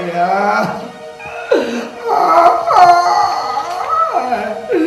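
A dog howls at night in several long, loud, wavering rising and falling wails close by, with short gaps and whimpering yips between them.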